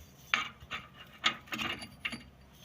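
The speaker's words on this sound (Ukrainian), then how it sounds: "Тепер беремо гайку, накручуємо." A nut being threaded by hand onto a high-strength stud at the rear control arm suspension joint of an Opel Vectra B, giving a few short, close metallic scraping turns with small pauses between them.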